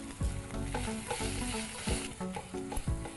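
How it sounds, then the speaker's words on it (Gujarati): A cooked flower vegetable dish with ghee and garam masala being stirred in a pan, continuous loud sizzling with rhythmic scraping spoon strokes, close up and with no voices. "ગેસ બંધ કરી દઈશું અને આને મિક્સ કરી લઈશું."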